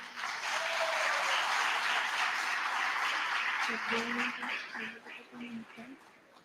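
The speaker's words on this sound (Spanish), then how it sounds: "Fuertes los aplausos." Audience applause for a Paraguayan folk ballet troupe at a Guaraní language week event, steady and full for about four seconds before thinning out, with a voice speaking over the fading claps.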